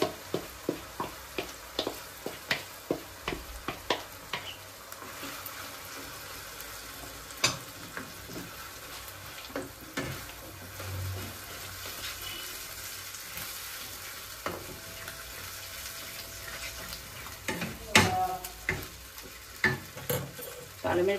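Spinach paste hits a hot pan for palak paneer, sizzling steadily while a spoon scrapes and stirs in quick repeated strokes at first, then a softer continuous fry with occasional clicks.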